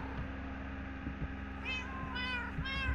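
A cat meows in the Minecraft video game, three short electronic-sounding mews in a row, a little apart, over a steady low game hum and background noise.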